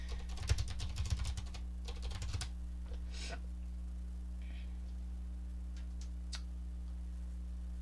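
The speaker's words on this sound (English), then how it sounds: "You're gonna hear my loud keyboard." A burst of rapid keyboard clacking early on, then a few scattered key taps over a steady electrical hum.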